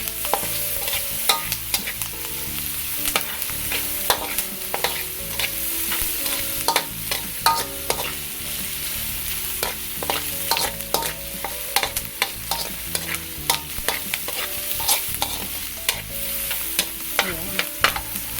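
Onions frying to golden brown for a Filipino beef and green bean sauté make a continuous loud sizzle, with rapid, busy scraping and clinking from constant stirring all the way through.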